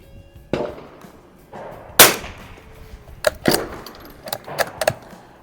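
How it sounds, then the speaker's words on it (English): Several .22 rifle shots with Aguila ammunition from military trainer rifles, a Mossberg 44US and a Remington 513T, fired at a target bull outdoors, sharp cracks spaced irregularly, loud and close, with one louder shot and a quick cluster near the end. "So we'll shoot this at the upper right-hand bull out there."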